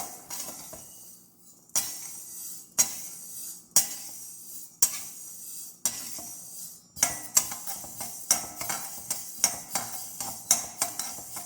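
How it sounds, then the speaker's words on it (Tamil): Fenugreek seeds being dry-roasted and stirred in a pan, with repeated metallic scrapes and clinks of a spoon against the metal that come faster toward the end, close by with no talk. "வெந்தயத்தை அதே மாதிரி கலர் கொஞ்சம் ப்ரௌன் ஆகிற வரைக்கும் வறுக்கணுங்க"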